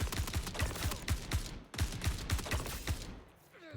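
Rapid bursts of automatic gunfire in the video game Star Citizen, two loud rattling volleys of sharp shots in quick succession, close and punchy, separated by a brief pause and ending with a fading tail.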